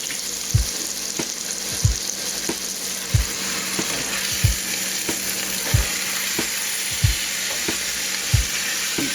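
Steak sizzles steadily in a hot pan alongside garlic, with a broadband frying hiss throughout and regular low thumps roughly every 1.3 seconds as the meat is turned; no one speaks.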